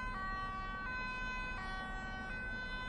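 The two-tone ambulance siren keeps alternating high and low in regular steps, with a low rumble of traffic and truck engine underneath, in Euro Truck Simulator 2.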